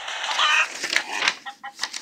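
Chicken clucking in a fantasy movie trailer, a few short close clucks and squawks in quick uneven succession over a busy trailer mix.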